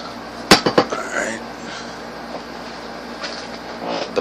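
A metal canteen cup and a small stove are handled out of a tightly packed canteen cover, with a quick cluster of sharp metallic clanks up close followed by quieter rustling and light knocks.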